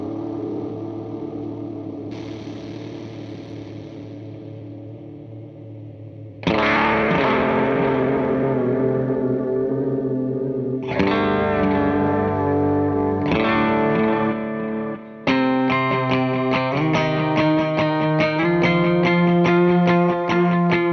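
Guitar run through a cassette-style modulation effect on a Meris Mercury X or LVX delay pedal, wobbling and warbling even the dry signal; a quieter passage gives way to louder, fuller chords and bright picked notes, played alone without talk.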